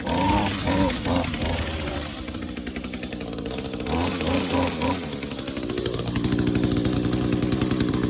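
A small two-stroke engine on an Echo string trimmer runs close and loud, its buzzing pitch wavering as the throttle rises and falls, then settling into a higher, steadier whine near the end.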